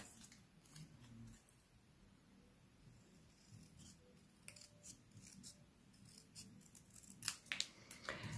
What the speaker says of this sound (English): I'm going to go ahead and fussy cut these out.